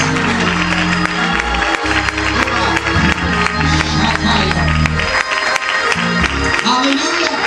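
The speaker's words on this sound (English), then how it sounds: "clap your hands and give the Lord praise" Church congregation at a pastoral anniversary morning service clapping hands in praise, a dense steady wash of applause and crowd noise filling the whole stretch with music and voices underneath.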